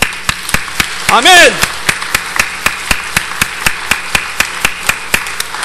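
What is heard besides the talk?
congregation applauding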